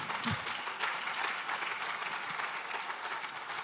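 An audience at a business summit claps continuously, a thick, even patter of many hands at moderate distance with no voices over it.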